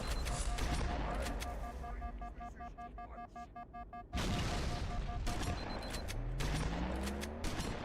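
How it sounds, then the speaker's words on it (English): Gunfire crackles through a video game match in rapid bursts with echoing tails, a dense volley of shots followed by a louder stretch of firing and whooshing effects, with faint talk underneath. "This shotgun is so bad at range."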